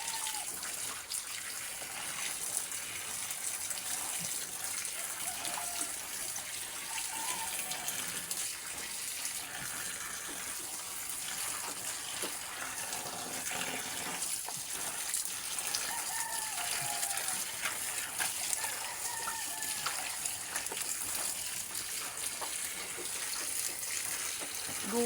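Water pours from a tap in a continuous, even gush for the whole stretch, close and steady, with faint chirps of birds or chickens in the background.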